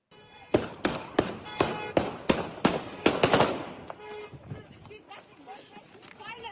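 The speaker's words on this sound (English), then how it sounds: "this was shooting so that the women protesters go away" Gunfire aimed at women protesters in a played video, a rapid series of sharp cracking shots in irregular bursts, then fading into noisy crowd sound, with voices talking underneath.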